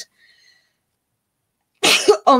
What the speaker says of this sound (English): Excuse me for sneezing.